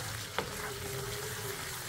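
Masala for a soya chunk and potato curry fries in a pan with a soft, steady low sizzle and one brief scrape of stirring, fairly quiet throughout.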